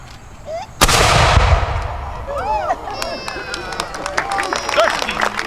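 A militia cannon fires a single loud, booming blast at an outdoor demonstration, then rumbles away while a crowd murmurs and whistles in the background.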